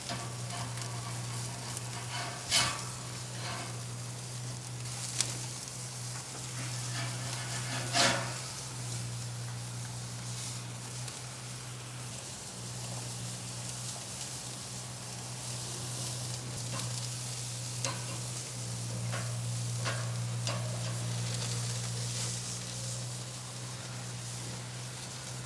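Burgers sizzling steadily on a Kamado Joe grill, a constant soft frying hiss with occasional faint clicks and pops, no voices over it.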